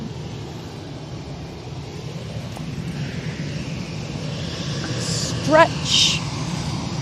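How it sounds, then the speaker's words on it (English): An EasyJet Airbus A319 airliner taxiing at Manchester Airport produces a steady, moderate engine drone and rumble nearby, with people talking over it. "EasyJet's going to come out in front of us. A319 to Belfast."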